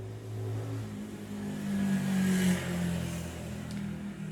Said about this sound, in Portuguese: outra moto